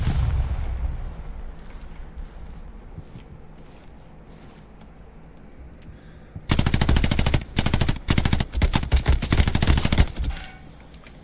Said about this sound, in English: Putting rounds on me.